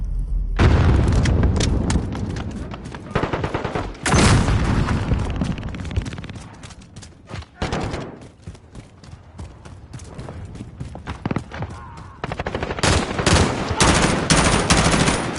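Dense bursts of Call of Duty gunfire, rapid automatic rattles mixed with heavier booming shots and blasts, loud and close, coming in clusters with brief lulls between volleys.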